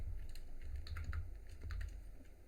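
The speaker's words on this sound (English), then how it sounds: "So I'm pressing Control Shift down." Fingers tap a computer keyboard while entering a shortcut, a quick run of close, crisp key clicks in uneven rhythm over a faint steady hum.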